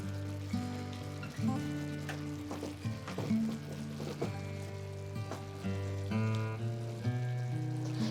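Mushroom mixture seasoned with salt, pepper and chili sizzles steadily in a pan while a spoon stirs it, with soft scraping and clinks over the frying hiss.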